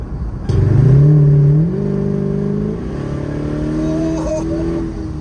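A rebuilt Corvette engine with an open, loud muffler revs hard while driving, rising sharply then settling into a steady throaty drone with shifting pitch, close and prominent.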